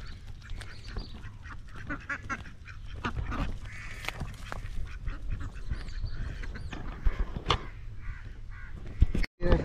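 Ducks quack repeatedly in a noisy flock, harsh calls overlapping close by, with a crow-like caw mixed in and a constant low background rumble.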